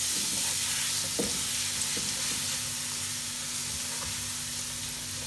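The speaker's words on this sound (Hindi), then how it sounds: "इसको ऐड करेंगे, और इसको अब हम ऑयल के अंदर करेंगे सौते।" Finely chopped onions sauté in hot oil for a chicken tikka karahi, giving a continuous, steady sizzle with soft stirring scrapes and clicks, close and unbroken.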